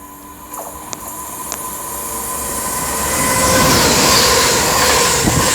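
A Pendolino train approaches along the West Coast Main Line at Marston Green, its roar swelling from a distant rumble into a loud, close rush with faint wheel clatter as it passes.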